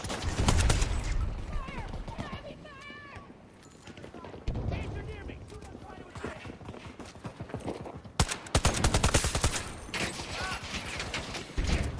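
Gunfire in a shooter video game comes in bursts of sharp cracks and rapid volleys, including shots fired through cover. A player talks excitedly over the shooting throughout.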